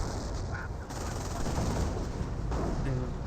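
Gunfire in a Company of Heroes battle video game, steady crackling small-arms and machine-gun fire mixed with battle noise at a moderate level, with a faint voice.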